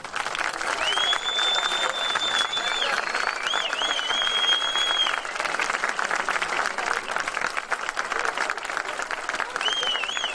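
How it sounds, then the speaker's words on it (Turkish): Crowd of fans applauds and cheers to celebrate a volleyball team's Super Cup win, a steady wash of clapping with whistles rising above and voices mixed in throughout. "Onları büyük bir coşkuyla, yürekten, sevgiyle kucaklamanızı ve alkışlamanızı istiyorum."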